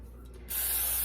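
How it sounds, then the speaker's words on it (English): Pam cooking spray from an aerosol can misted into a 9x13 baking pan, a sudden close steady hiss starting midway and continuing to the end, with no talking. "I'm spraying it with Pam"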